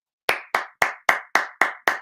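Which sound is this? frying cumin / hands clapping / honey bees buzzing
hands clapping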